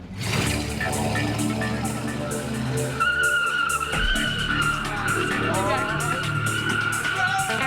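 A car skids out of control with loud, sustained tire squeal and roaring engine, tires screeching in rising and falling bands over several seconds, close and intense, with voices talking underneath.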